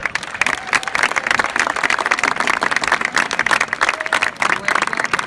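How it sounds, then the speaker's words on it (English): A school assembly audience claps steadily and applauds together at a marching band send-off, a dense and continuous sound that fills the room for several seconds. "Definitely a round of applause to our outstanding parents"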